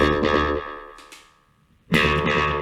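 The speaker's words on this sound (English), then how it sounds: "This is how the delay sounds on its own." Two bass guitar notes through an analog delay ring out with a distorted, echoing tail that fades and repeats before the next note cuts in loudly.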